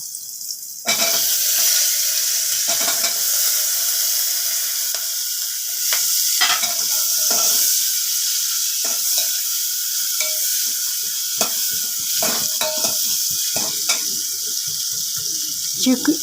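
Onions sizzling in hot oil with cardamom, cinnamon and cloves for a chicken stew, a steady broadband fry with scattered stirring clicks and scrapes throughout, close and fairly loud, no talking.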